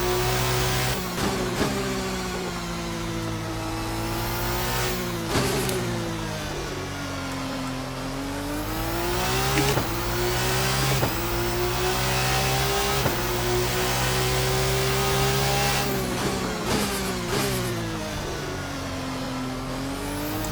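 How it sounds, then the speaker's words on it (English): Turbocharged race car engine in Assetto Corsa with the RSS 2 mod, revving loud and steady through repeated upshifts and downshifts, rising and falling pitch with sharp shift cuts, alone without talk. "They've done a nice job with that turbo"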